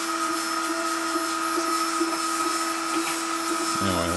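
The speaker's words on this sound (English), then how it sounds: "Cut a circle out of that bucket. Bottom of the bucket with a grinder." Angle grinder cutting a circle out of the bottom of a plastic bucket: a loud, continuous high whine close by, steady for the whole stretch and starting to wind down at the very end, no talk.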